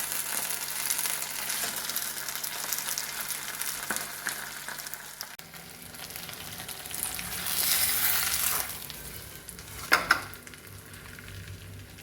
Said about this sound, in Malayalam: ഓരോ സൈഡും 5 മിനിറ്റ് വീതം ഫ്രൈ ചെയ്തെടുക്കുക.